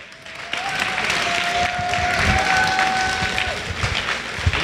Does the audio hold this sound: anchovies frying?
no